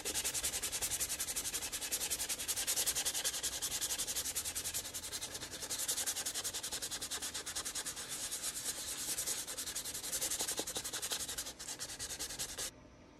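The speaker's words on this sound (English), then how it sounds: "I finished up sanding there with the 600" Fine 600-grit sandpaper is rubbed rapidly back and forth over a plastic 1:350 USS Enterprise refit model kit part, a close, steady hiss of quick strokes that continues until a brief stop near the end.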